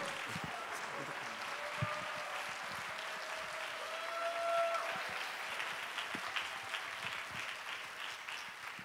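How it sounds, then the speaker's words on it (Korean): Faint, distant congregation applause in a church youth service welcoming the pastor, a soft steady patter of many hands lasting several seconds. "우리 큰 박수로 맞이하겠습니다"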